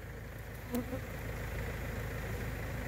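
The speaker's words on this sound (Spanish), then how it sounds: "les cuento que estoy aquí rodeado de abejas" Dense swarm of bees buzzing steadily while a honeycomb is being harvested, a continuous close-up drone with no talking.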